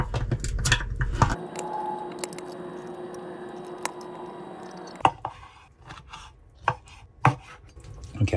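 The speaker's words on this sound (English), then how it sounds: "just gonna need to chop up these artichoke hearts just a little bit" A knife chops artichoke hearts on a cutting board for artichoke dip, starting with a quick run of close, loud chops, then a long pause and several sharper separate knocks.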